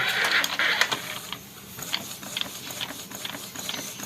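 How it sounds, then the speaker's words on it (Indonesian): An ID card printer feeds and prints a card, whirring and ratcheting with rapid clicking mechanical ticks, close and steady throughout, with no voices. "Ini proses cetaknya ya."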